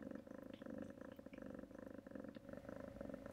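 A rescue cat purrs close to the microphone, a soft, steady, rhythmic rumble with regular breathing pulses repeating throughout, alone and without voices.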